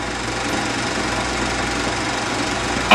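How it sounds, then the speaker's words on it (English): A 1950 Allis-Chalmers WD-45 tractor engine running steadily to power a wheel spacing change, a constant rough mechanical hum with a faint knocking texture and no talk. "you change wheel spacing with engine power to the correct width for the job in just a few minutes"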